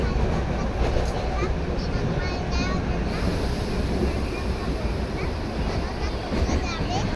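Steady, loud rushing rumble heard from inside a moving train, with faint squeaks and rattles over the constant roar and no clear talking.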